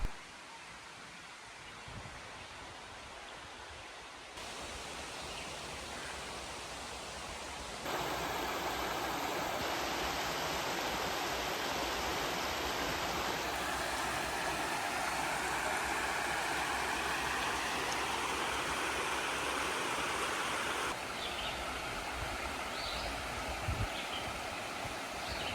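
Brandywine Falls in Cuyahoga Valley National Park, a constant broadband roar of falling water that is fairly faint at first and swells louder as the view shifts, with no talking.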